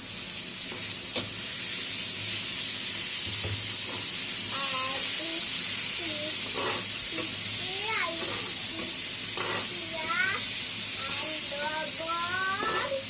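Dried loitta fish fries with browned onions in oil, a loud continuous sizzle and hiss close by, while a voice speaks in short phrases over it and utensils tap now and then.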